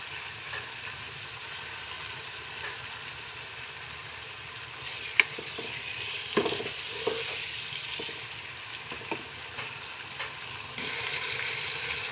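Tomatoes soften in a pan, frying with a low sizzle while a spoon stirs and scrapes now and then, quiet and close with a few sharper knocks from the utensil.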